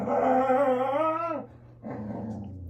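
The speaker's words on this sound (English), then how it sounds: "Excuse them, they're over there fighting with each other." Dogs snarl and growl at each other up close in a loud, wavering growl that breaks off briefly and then resumes.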